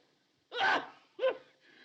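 Two sharp bursts a moment apart, a sudden loud sneeze-like explosion followed by a shorter one, with quiet before and a faint murmur after.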